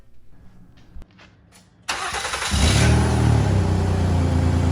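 A swapped engine in a 2010 Honda Accord cranks and fires up after faint clicks. It settles into a steady, loud idle close by.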